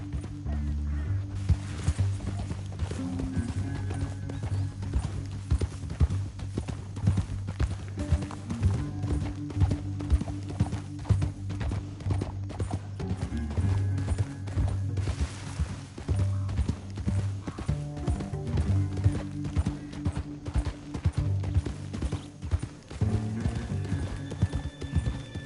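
Horse hooves galloping in the video game Red Dead Redemption 2, a continuous rapid clip-clop rhythm with occasional neighs over a rumbling soundtrack and other game sounds.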